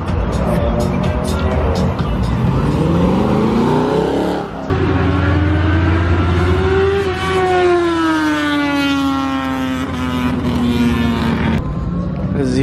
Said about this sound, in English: That's a Z06 too.